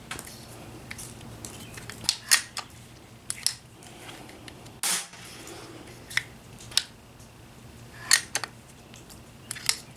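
A RAW HM1000X LRT air rifle is handled, cocked and fired, giving a run of sharp metallic clicks and snaps spaced irregularly, with one louder burst midway over a quiet room hum.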